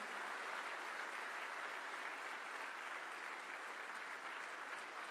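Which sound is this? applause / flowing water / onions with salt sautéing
applause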